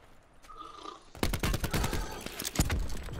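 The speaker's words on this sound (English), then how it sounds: "Another cluster grenade." Cluster grenades bursting in Call of Duty Blackout: a rapid string of sharp, loud blasts begins after a quieter stretch, then a heavier crack near the end, with faint game sounds underneath.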